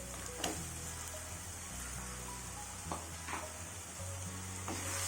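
Ground tomato paste sautéed in a pan for chicken mushroom gravy gives a faint, steady sizzle with occasional soft scrapes from stirring over a low hum.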